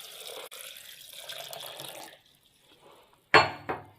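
In a home kitchen, about 250 grams of water runs in a steady stream for a couple of seconds while a falsa sharbat is made, followed by a quiet pause and two sharp clinks of a glass vessel.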